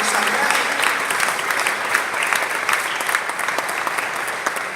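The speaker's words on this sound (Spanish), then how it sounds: "Den un aplauso al Señor porque es una cuestión de alegría, de gozo, que Él nos atrae." A church congregation at a Spanish-language sermon breaks into applause, a dense, continuous wash of many hands clapping throughout, loud and sustained with a hint of crowd voices beneath.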